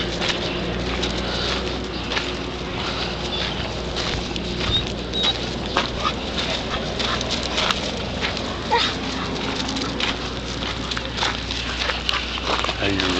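Dogs at a busy dog park, with steady outdoor bustle, scattered short barks and yips throughout, and people talking in the background.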